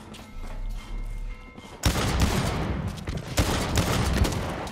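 Pistol gunfire in the shooter Blacklight Retribution: after a quieter opening, loud rapid shots crackle one after another in a dense, continuous volley with heavy impacts.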